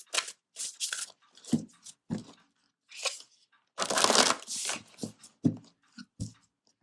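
A deck of oracle cards is shuffled by hand in a series of quick, close riffling and rustling bursts separated by short pauses.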